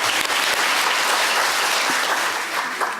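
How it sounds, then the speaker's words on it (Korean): A crowd at a childcare-related forum claps loudly and continuously for a government official being welcomed to the stage, a dense, close, even round of applause lasting a few seconds. "큰 박수로 모시기 바랍니다"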